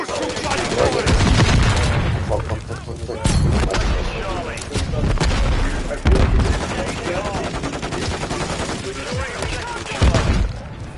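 Video game gunfire in a battle over a capture objective: loud, close, continuous automatic fire with heavy impacts and booms and a few brief pauses, with voices faintly underneath.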